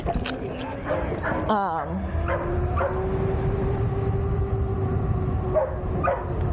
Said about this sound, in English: dog is barking at the other dog or barking at the duck?